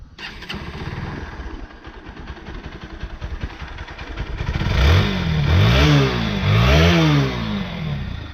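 Honda NS 160 motorcycle running after its first full engine rebuild, a loud steady exhaust note with light mechanical clatter, swelling into stronger revving pulses in the second half.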